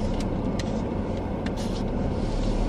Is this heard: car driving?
yes